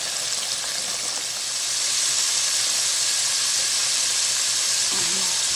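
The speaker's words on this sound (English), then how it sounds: "So while that's frying" Steady, dense sizzling hiss of food frying in hot oil, continuous and fairly loud, with a faint voice near the end.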